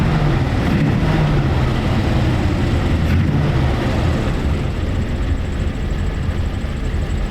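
A 1934 Ford Deluxe Tudor sedan, an original unrestored car, runs with a steady, loud engine drone that holds evenly throughout without pause.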